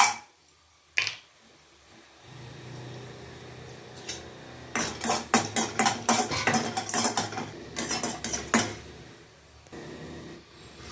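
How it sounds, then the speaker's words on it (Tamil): Cumin, pepper and asafoetida roasting in oil in a pan for idli podi, a run of sharp clinks and scrapes from a utensil against the pan, with a faint sizzle underneath and quiet stretches at either end. "ஜீரகம், மிளகு, கொஞ்சம் எண்ணெய் விட்டு பெருங்காயத்தை வறுத்துக்கலாம்."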